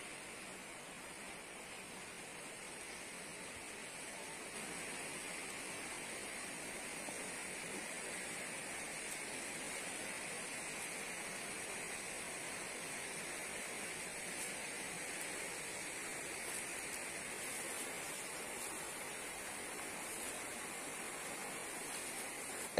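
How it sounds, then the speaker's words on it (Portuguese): Water from the São Francisco river transposition pours into the Castanhão reservoir, a steady broadband roar of falling water that stays even throughout with no voices. "Toda essa água está caindo no açude do Castanhão."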